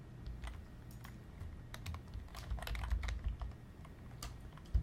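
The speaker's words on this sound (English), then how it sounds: "And you can type your text, numbers, or formulas in here." Steady, close typing on a computer keyboard while entering text into an Excel formula bar, a continuous patter of light key clicks with no speech.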